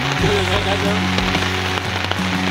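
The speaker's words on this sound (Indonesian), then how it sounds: "Puncak Patuha hujan deras" Heavy rain pours steadily on Patuha mountain peak, a dense hiss filling the whole clip with a low hum running underneath.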